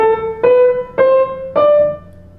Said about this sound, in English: Suppose you have a series of 5 notes.